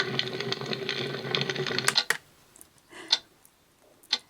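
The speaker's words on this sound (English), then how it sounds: "This is a ticking clock, which I have to admit would drive me potty." An AuCuTee S5 sleep-therapy white noise machine plays its ticking-clock sound: a crackly hiss fades out, then crisp, isolated ticks follow about one second apart against near silence.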